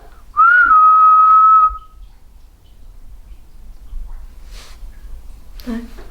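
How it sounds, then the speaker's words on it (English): A single clear, sustained human whistle rings out near the listener for about a second in an underground shopping arcade, followed by faint soft noises and quiet movement. "Copy my whistle."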